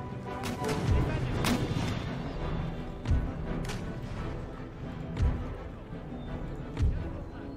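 Line infantry fire at will in the strategy game Empire Total War, scattered musket volleys and heavy thumps landing every second or two over a continuous battle din, with a voice speaking beneath.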